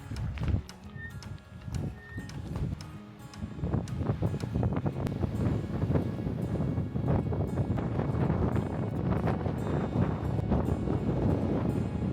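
Steady wind buffets the microphone outdoors at a stop on a van road trip from Sedona to Amarillo, a continuous loud rumble with gusty swells throughout.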